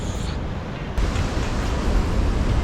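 Sea waves wash against a coastal fishing spot in a steady broadband rush, with a surge growing slightly louder after the first second, and no talking.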